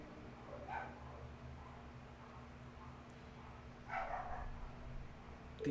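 Dogs in the video game The Legend of Heroes: Trails of Cold Steel give two short bursts of barking or yipping over a low, steady background hum.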